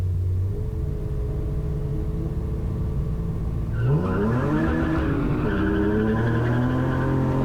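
BMW E36 rallycross race car at a race start, a steady engine drone that suddenly rises into a loud, climbing rev as the car launches, with several engines roaring nearby.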